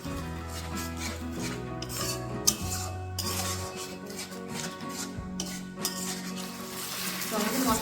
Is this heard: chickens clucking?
no